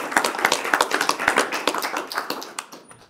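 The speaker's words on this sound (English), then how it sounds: "if we could give all of our recipients another round of applause" A small audience gives a short, scattered round of applause for recipients at an education department event, with distinct nearby claps that thin out after about three seconds.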